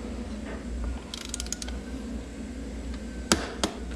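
Torque wrench ratcheting at 17 on a Trek Mino Link flip-chip bolt with a 5 mm hex, a short run of quick close clicks followed later by two sharp louder clicks as the setting is reached.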